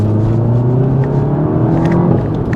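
A VW Golf GTI Clubsport S (MK7) engine drones steadily and loud from inside the car while driving on the open road, a continuous hum with no talk.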